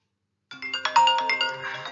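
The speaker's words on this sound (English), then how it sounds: "get your virtual phone out and to dial my number and to give it a ring" A virtual phone ringtone starts abruptly after a short silence, a bright electronic melody of chiming tones sounding alone, close and steady.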